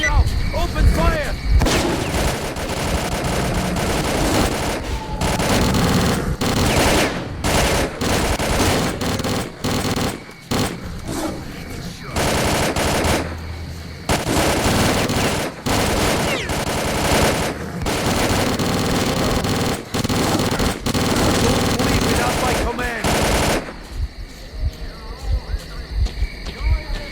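Dense bursts of automatic gunfire and heavy shots from the S.T.A.L.K.E.R.: Clear Sky video game, loud and nearly continuous with brief gaps, ending in a quieter stretch.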